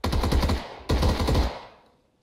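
Automatic gunfire sprays in two close, loud bursts in a video game firefight, the second trailing off into a fading echo.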